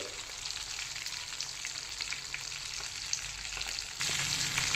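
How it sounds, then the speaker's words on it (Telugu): A fish frying in a pan, one side done, as it is turned over: a continuous bubbling sizzle with a small clatter, growing louder and brighter near the end. "ఒక సైడ్ అంతా బాగా ఫ్రై అయింది. ఇప్పుడు మనం రివర్స్ చేసుకుందాం దీన్ని"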